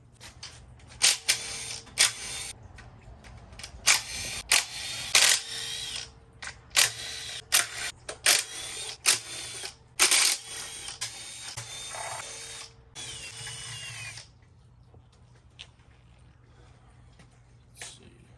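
A power tool zips 10 mm bolts off an LS7 engine in a rapid series of short, loud whirring bursts, each separated by brief pauses, before fading to quiet handling noise.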